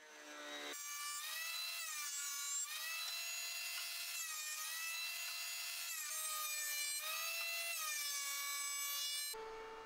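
Wood for a coffee table base being rough cut with a power saw: a loud, steady whining cut held for about nine seconds, its pitch dipping slightly as the blade loads, with no talking.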